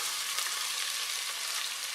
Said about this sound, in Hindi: तेल गर्म हो चुका है तो अब मैं इसमें डाल रही हूँ अपने कटे हुए प्याज